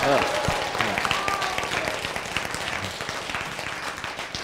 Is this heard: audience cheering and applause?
yes